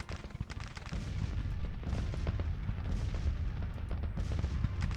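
Artillery guns fire in a Civil War video game set in Tennessee in 1863, with a steady stream of booms and cracks rolling on for several seconds with no speech.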